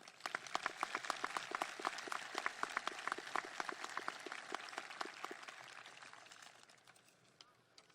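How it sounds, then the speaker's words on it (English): Dense round of applause from an audience at a high school graduation ceremony, many hands clapping at a moderate distance, gradually fading out over the last few seconds. "We can have a round of applause."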